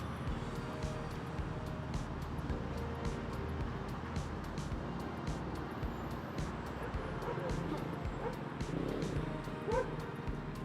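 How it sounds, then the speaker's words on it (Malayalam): Dogs bark now and then across a small park in Tbilisi, Georgia, set against steady traffic hum and outdoor noise, with voices talking throughout. "ഇഷ്ടം പോലെ പട്ടികളുണ്ട് ഇവിടെ"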